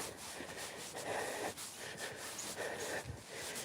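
A dog named Azra snorts and sniffs in short, close, quick bursts on a Monday morning walk, with brief pauses between sniffing spells and no talk.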